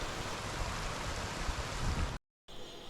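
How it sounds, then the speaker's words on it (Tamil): Small waterfall fed by overflow from a lake, a steady broadband rush of falling water, close and continuous, cutting out briefly near the end before resuming. "ஃபஸ்ட்டு உள்ளே வந்தவொடனே இந்த வாட்டர் ஃபால்ஸ் இருக்குது"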